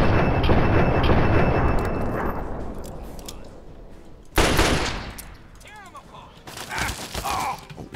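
Rifle fire in Fallout 3 around Springvale: a loud, dense stretch of rapid shots that fades, then a sudden sharp burst, with voice-like groans mixed in.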